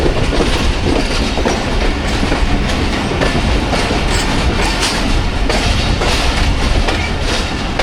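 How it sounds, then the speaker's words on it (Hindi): Freight train shunting on rails at a Pakistani station on a rainy early morning, a steady loud rumble with rhythmic clickety-clack of wagons rolling over rail joints throughout, no voices. "शंटिंग कर रहा है इस फ्रेट ट्रेन को"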